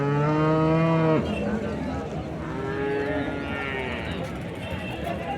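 Cow at a Chintamani livestock market lowing once, loud and close, in a long harmonic moo lasting about a second, followed by the busy murmur of the market crowd and other distant animal calls.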